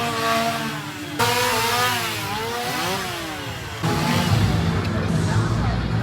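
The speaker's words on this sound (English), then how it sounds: "you might find 2 random chainsaw guys" Chainsaws rev loudly at a Halloween Horror Nights scare zone at Universal Orlando, the engine whine rising and falling in pitch, with a louder second saw cutting in near the end over crowd noise and voices.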